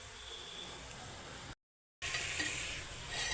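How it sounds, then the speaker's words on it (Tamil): Drumstick greens go into a pot of sambar and are stirred, making a soft broadband rustle and faint sizzle that cuts out briefly and then resumes. "நான் எடுத்து வச்சுருக்க முருங்கைக்கீரையை இதில் போட்டுக்கிறேன்."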